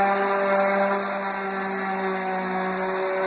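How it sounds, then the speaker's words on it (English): A power sander works over original wood trim during a fix-and-flip home renovation, a loud, steady whine that holds without a break from start to finish, with no talking. "He's sanding them down smooth right now."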